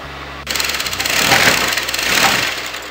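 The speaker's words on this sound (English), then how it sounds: "Just sew on the exact margin of the piping." Close and loud, a sewing machine stitches piping along the seam margin of a front-opening kurti in one continuous run of about two and a half seconds.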